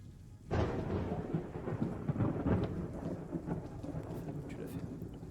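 Thunderstorm weather in the video game Arma III: heavy rain roars steadily with low rumbling thunder rolling underneath, starting abruptly after a short quiet moment and continuing loud and dense throughout.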